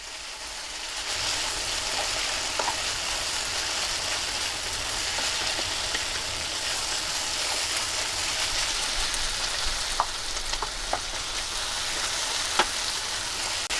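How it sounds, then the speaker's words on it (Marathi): Dudhi (bottle gourd) bhaji sautéing in oil in Maharashtrian style, a steady hissing sizzle with occasional faint clicks of a spatula, close and continuous with no talking. "आपल्याला थोडंसं अजून एखादा मिनिट असं थोडंसं परतून घ्यायचं"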